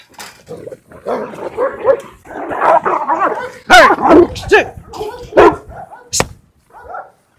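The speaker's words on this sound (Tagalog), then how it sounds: "Pero itong mag-ama na si Dilim at Lapu-Lapu ay nagpang-abot" Two dogs, a father and son, snarl, yelp and bark in a close, chaotic fight, sharp loud bursts mixed with growls and whimpers in quick irregular succession.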